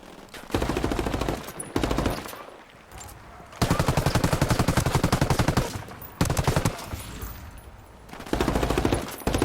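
Rapid automatic gunfire in the video game Ghost Recon Wildlands, loud sustained bursts of machine-gun shots separated by short pauses.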